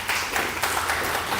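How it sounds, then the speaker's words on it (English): A conference audience applauds a speaker with a short burst of dense, moderately loud clapping that fills the room and then starts to fade. "Let's do a round of applause for Deepak."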